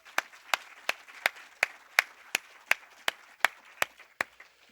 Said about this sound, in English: Round of applause for Farhang Foundation